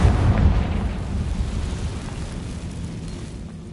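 Confringo fire spell blast in Hogwarts Legacy, a deep booming explosion that hits hard at the start and then rumbles and fades over a few seconds.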